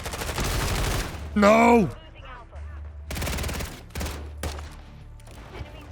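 Automatic gunfire from a first-person shooter match, Modern Warfare 3, with rapid bursts opening the clip and returning near the middle and end, layered with game effects while a player shouts.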